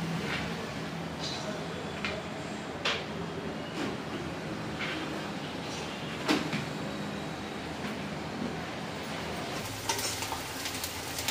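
Onions browning in a pan for green potato bhaji give off a steady, low sizzling hiss with small pops and clicks scattered throughout, and a voice can be heard faintly in the background.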